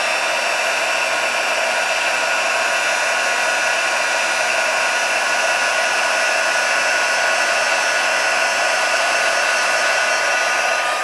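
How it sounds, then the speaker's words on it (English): A heat tool blows a loud, constant whooshing hiss for several seconds, close and unbroken, while heat-setting an embossed sentiment on a handmade Christmas card. "Now let's warm up that heat tool."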